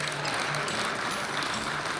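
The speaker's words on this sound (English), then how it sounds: "that was the weakest applause I've ever heard for you, Rob" Thin, steady applause from an audience for a frequent guest, a soft continuous patter of hands with no voices over it.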